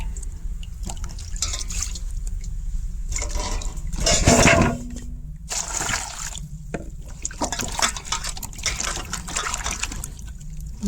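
Water splashes and pours in a kitchen as the water is changed while washing ingredients, with intermittent sloshing, a louder gush near the middle and trickling between.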